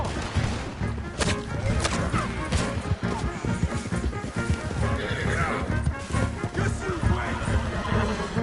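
Horses in Red Dead Redemption 2 gallop with rapid clip-clopping hooves and loud whinnies, close and busy, mixed with clattering impacts, while voices shout over the action.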